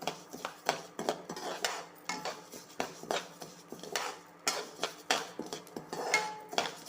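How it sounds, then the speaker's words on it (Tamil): Basmati rice being dry-roasted in a pan and stirred, close rhythmic scraping and clinking of a utensil against the pan in quick repeated strokes, with no talking. "இப்போ பாஸ்மதி ரைஸை நம்ம இந்த அளவுக்கு வறுத்து வச்சுக்கலாம்."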